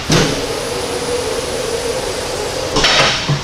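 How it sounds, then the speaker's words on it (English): A loud, rapid air hammer rattles continuously against metal, driving out a lower ball joint on an SUV or truck, with sharp bursts at the start and end of the run. "We're going to have to use a air hammer."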